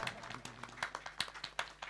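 Scattered handclaps from committee members at an outdoor Ram Katha festival in a village, a sparse, uneven patter of individual claps, fairly faint and distant.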